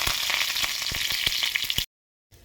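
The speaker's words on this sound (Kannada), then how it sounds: "ಇವಾಗ ಸಾಸಿವೆ ಸ್ವಲ್ಪ ಚಟಪಟ ಅಂದಮೇಲೆ ಜೀರಿಗೆನ ಹಾಕಿ ಇದಾದ ನಂತರ ಕರಿಬೇವನ್ನ ಹಾಕಿ" Mustard seeds, cumin and curry leaves frying in hot oil for an onion palya give a loud, steady sizzle with sharp popping crackles, then cut to brief silence before the sizzling resumes.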